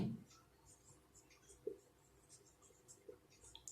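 Pen or pencil writing on paper during a math lesson, with faint scratching strokes and light taps at an irregular pace, quiet and close, and a voice talking softly in the background.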